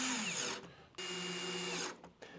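Power drill driving screws into a basement wall during a DIY makeover, two close, loud whirring bursts with a short pause between them and a brief trailing buzz.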